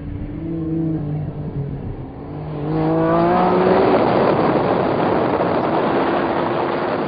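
A Nissan GT-R R35 racing toward the finish line at a circuit, its engine note climbing through a gear and then holding a loud, sustained high-revving roar that dominates the scene.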